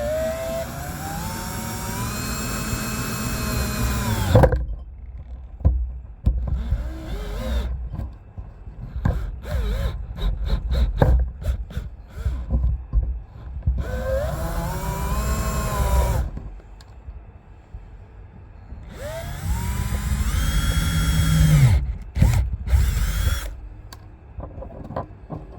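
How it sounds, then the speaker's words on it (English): A power drill bores holes through small PVC pieces in three long whining bursts, with clicks, handling noises and short stops between them. "We're going to take these little bitty pieces of PVC and we're going to drill a hole all the way through on each end."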